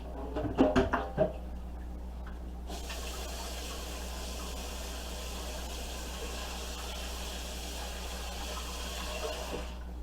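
Tap water runs into a glass pan at a kitchen sink, a steady rushing pour that follows a few brief clinks and knocks at the start.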